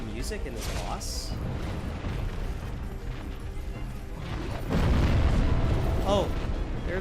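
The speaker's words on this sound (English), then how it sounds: "there's the random explosions" Explosions in a Dark Souls boss fight against the Stray Demon arrive as a deep, sustained rumbling blast late on, layered with game effects while a person talks over the action.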